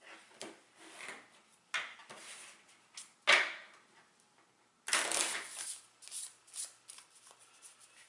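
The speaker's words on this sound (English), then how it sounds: "I'm going to have to shuffle." A deck of playing cards from a Legendary Buffy the Vampire Slayer deck-building game is shuffled by hand in close, crisp bursts of riffling and squaring, separated by short pauses.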